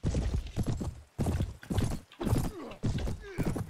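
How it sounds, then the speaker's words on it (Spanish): Cavalry horses in the Mount & Blade Warband video game, with bursts of loud, close hoofbeats in quick clip-clop rhythm in several separate runs and an occasional whinny. "Tropas a caballo."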